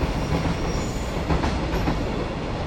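A JR Freight train hauling small cargo containers at Shin-Osaka Station, a loud steady rumble of rolling wagons with rail clatter and a faint wheel squeal throughout, no voices.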